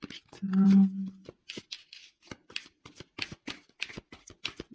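Tarot cards are shuffled in a short riffling burst, followed by scattered soft card handling and quiet taps at close range.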